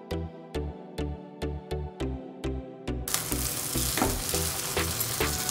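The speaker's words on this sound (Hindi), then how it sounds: "तेल गरम हो गया है, अब इस पे अपने नाश्ते को रखेंगे।" A green pea snack lands in hot oil in a pan. Regular rhythmic tapping gives way to a loud, broad, continuous sizzle of frying.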